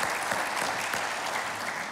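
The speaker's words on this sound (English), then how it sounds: "Big round of applause." Audience applause for a newly reelected mayor of Yuma, a dense, steady roomful of clapping hands that stays close and even for two seconds with no voices.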